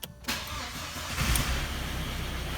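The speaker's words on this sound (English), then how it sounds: "And the engine's running very smoothly." An Audi engine just refitted with new spark plugs cranks briefly and catches, then settles into a steady, close idle with a slight rev as it fires up.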